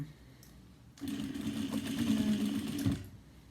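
A sewing machine stitches a seam on a cross-body bag, starting abruptly with a steady close whirring hum and needle clatter for about two seconds before stopping.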